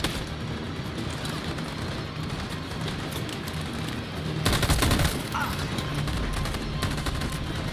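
Gunfire in the video game Detroit: Become Human, a steady rattle of distant shots running throughout, with a louder burst or blast near the middle and the firing continuing afterward.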